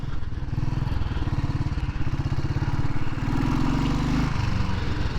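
A Royal Enfield Bullet 500 single-cylinder motorcycle rides along the road with a steady thumping engine note that rises as it accelerates, mixed with wind rumble, heard from on the bike.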